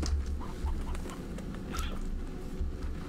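Video game chickens cluck and chatter in scattered quick bursts over a low background rumble, modest in volume, with no speech.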